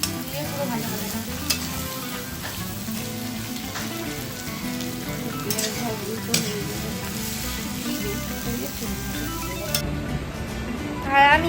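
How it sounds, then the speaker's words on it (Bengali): Onions frying in a pan at home, a steady close sizzle and crackle running throughout with occasional stirring clatters, loudest near the end. "হ্যাঁ সব পেঁয়াজ দিয়ে দেবে, দিয়ে পুরো ভাজা ভাজা করে।"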